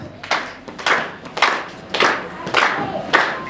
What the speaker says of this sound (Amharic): ኧረ አጨብጭቡላቸው።